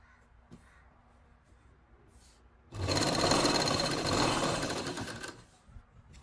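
A sewing machine runs in one loud, steady burst of stitching, sewing lace along the folded edge of a dupatta, starting abruptly from near-silence and stopping after a few seconds.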